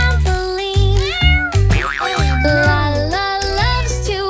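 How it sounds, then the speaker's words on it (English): Cartoon cats meow repeatedly in a bright, sing-song way over a bouncy children's tune, the meows loud and close. "10 cutie cats on a trampoline."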